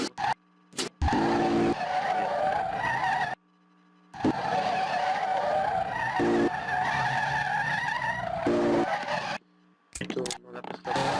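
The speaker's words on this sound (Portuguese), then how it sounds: "tô escutando o barulho do motor" A Volkswagen Gol GTI engine in a video game drones with tire squeals in bursts, separated by brief silences; a game-like motor sound, fairly close and steady.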